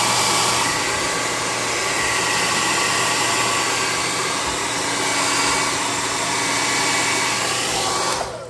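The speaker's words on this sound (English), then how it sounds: "Let's hit it with the +5 hot air gun burning." A hot air gun blows a steady, loud, broadband rush of air for several seconds without pause while heating a painted model locomotive engine piece.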